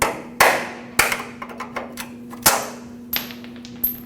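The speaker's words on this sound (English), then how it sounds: "You can use a pry bar and a hammer and just tap it out." A hammer strikes a pry bar to tap a stuck bolt from a 2005–2021 Nissan Frontier 2WD lower control arm mount, giving sharp metallic clanks at irregular intervals, some hard and ringing, others lighter.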